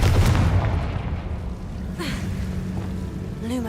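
Confringo fire-blast spell cast in Hogwarts Legacy on PS5: a heavy booming burst at the start trailing into a rumbling wash, with further whooshing magical effects and a sharp flare near the end, loud and in the foreground.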